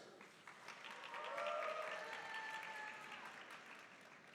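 A graduation convocation crowd applauding and cheering for a graduate, a steady wash of clapping with a few whoops rising in the middle, heard from some distance in a large hall.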